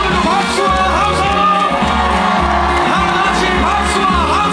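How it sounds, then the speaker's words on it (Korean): Concert-goers at the Mungyeong Apple Festival keep up a steady roar of clapping and shouting, with whoops popping out, all riding on a loud pulsing music track. "저 뒤쪽에 계신 여러분들도 박수와 함성"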